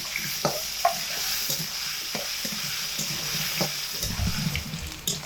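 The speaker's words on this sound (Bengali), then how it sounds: "4 থেকে 5 মিনিট সময় ধরে মিডিয়াম আঁচে আলুগুলোকে তেলের মধ্যে রেখে খুব ভালোভাবে লাল লাল করে ভেজে নিয়েছি" Salted potato pieces fry in oil over medium heat, a continuous bright sizzle with scattered taps and scrapes from stirring, growing a little busier toward the end.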